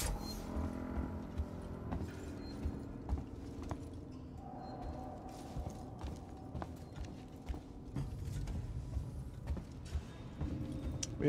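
Loud footsteps in the horror video game Alien Isolation: heavy, irregular thudding steps repeat over a low ambient hum, close and prominent throughout.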